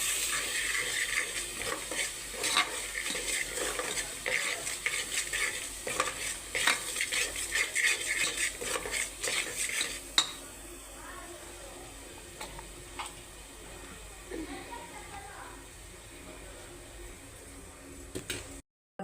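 Coriander powder, coconut powder and salt are stirred in a pan over a low flame, with a spoon scraping and clinking repeatedly against the metal over a soft, continuous sizzle, close up and without speech.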